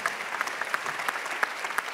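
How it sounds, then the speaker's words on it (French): An audience applauds an actress at a conference event, a brief burst of many hands clapping with a few distinct sharp claps standing out, moderately loud and unbroken. "je voudrais qu'on l'applaudisse sincèrement"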